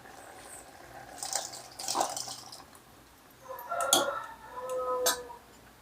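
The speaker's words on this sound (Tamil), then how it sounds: "இப்போ நம்ம பருப்பு தண்ணி சேர்த்துடலாம்." Lentil cooking water poured into a pot of drumstick sambar, giving a few splashing, dripping bursts of liquid at moderate loudness with no talk.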